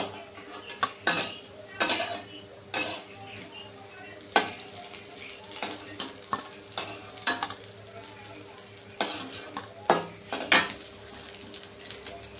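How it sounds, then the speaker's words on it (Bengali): Potol and paneer koftas fry in hot oil with a soft sizzle, broken by sharp metal clinks and scrapes as a utensil knocks against the pan while the browned pieces are lifted out. "এগুলো ভালো ভাজা হয়ে গেছে, এগুলো তুলে নিচ্ছি"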